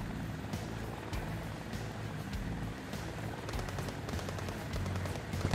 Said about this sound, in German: Boah, der Helikopter.